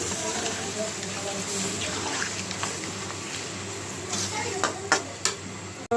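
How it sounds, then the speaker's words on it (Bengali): Gravy and a little water poured into a pot of sautéed small potatoes for a curry, a steady watery rush and simmer throughout, with a few clinks of utensils near the end. "এখন ঝোলটা দিয়ে দেবো আর একটু জল দেবো"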